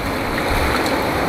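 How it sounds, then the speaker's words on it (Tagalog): Strong ocean waves at Dingalan, Aurora surge and wash in a continuous loud roar of churning water, close and constant for the whole moment. "O yung alon ha, paki-watch na lang yung alon."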